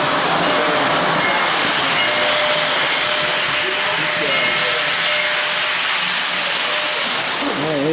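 A logging steam locomotive lets off a loud, steady, broad hiss of steam that runs through the whole stretch, with faint voices beneath it at a rail event.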